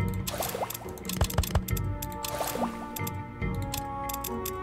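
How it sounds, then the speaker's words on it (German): Holy water being made in the game SpellForce: Conquest of Eo gives off soft, wet squishing drips and liquid filling sounds in irregular clusters, fairly quiet, over a faint tonal game background. "Wir machen uns jetzt erstmal ein bisschen heiliges Wasser hier."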